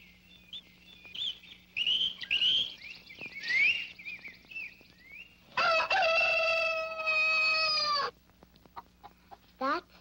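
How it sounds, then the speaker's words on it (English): A rooster crows loudly and close by in a single long, wavering cock-a-doodle-doo, with other bird calls and chirps before it and a short call after. "That's a rooster. He crows."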